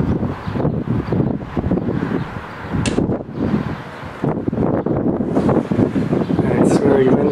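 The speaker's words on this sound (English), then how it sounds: "And it's very windy out." Heavy wind buffets the microphone in rough, continuous gusts, a low rumbling roar that rises and dips throughout, with faint rustling.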